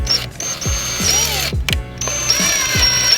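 An easy out screw extractor backs a broken stud out of a 240SX engine, heard as repeated ratcheting clicks and metallic grinding turns with a whining tool tone, close up and without speech.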